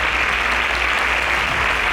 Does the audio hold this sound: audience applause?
yes